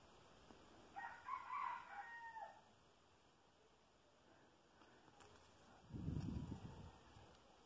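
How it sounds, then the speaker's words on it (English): Roosters crow faintly in the distance, one drawn-out call early on and then quieter bursts later, under a low steady background hiss with a brief low rumble near the end. "Nobody ever told me that the roosters go off at 10 o'clock just 'cause."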